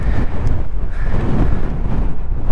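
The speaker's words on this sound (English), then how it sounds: "Man, is it windy out here." Strong, steady wind buffets the microphone atop the 13,185-foot summit of Mosquito Pass, a loud continuous low roar with gusty swells and no talk.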